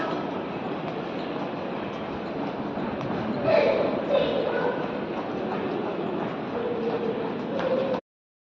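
A train rumbles steadily close by with a continuous rolling roar and some squealing metal, running the whole time before cutting off.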